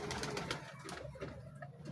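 Ali Wala breed pigeon cooing softly close by in a loft, low murmuring calls under steady background noise.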